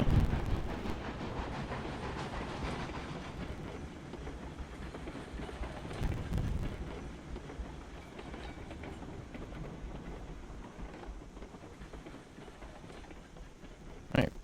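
In the Railroads Online video game, a train locomotive is pushed along a tight downhill section by its carriages, with continuous rumbling wheels and rhythmic clickety-clack of rail joints, louder at the start and easing off later.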